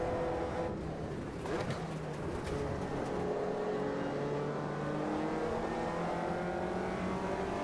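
A Caterham Supersport race car engine drones at high revs at Brands Hatch in Automobilista 2, a continuous buzzing whine with shifting pitch that holds steady throughout with no speech.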